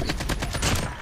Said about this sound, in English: I hear people shooting over here